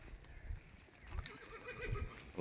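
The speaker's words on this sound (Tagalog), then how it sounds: "Oh, yun, may kabayo rito." A horse on a strawberry farm in Bauang, La Union, gives a brief whinny at a moderate distance, with some outdoor rustle and a few faint thumps around it, and no voices.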